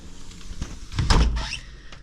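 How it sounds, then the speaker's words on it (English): A house back door with a lock that sometimes fails to engage is worked and pushed, giving a close, heavy thud with rattling hardware after some lighter handling knocks. "I've got a problem in my back door"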